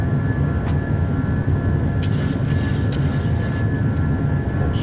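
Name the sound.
PMDG 737-800 jet accelerating for takeoff, video game (MSFS)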